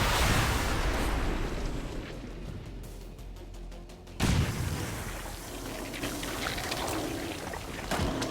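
A dying enemy bursts apart in an XCOM 2 firefight, a sudden deep boom that follows a dull rumbling stretch, then a rolling low-end tail with scattered crackle.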